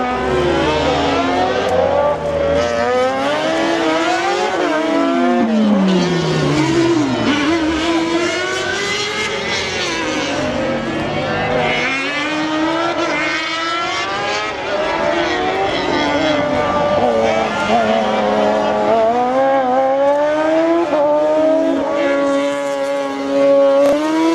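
A rally car races through a slalom course during the 2022 slalom final at Lessay, its engine revving and shifting in loud, continuous rising and falling whines, with a commentator talking over it.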